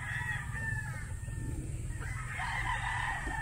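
A gamefowl bull stag crows in repeated drawn-out calls over a steady low hum, close and fairly loud, with other fowl faintly audible around it.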